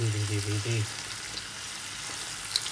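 Chicken sizzles in butter in an uncovered pan, a soft steady fry crackling faintly under a brief spoken phrase at the start.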